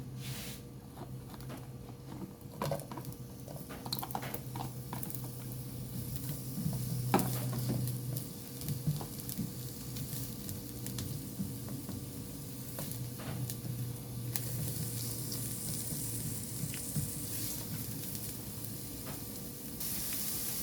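Onion sizzles in a pan while pancit canton is being cooked, a continuous close frying hiss with occasional scraping stir clinks and a faint background hum, steady for about twenty seconds.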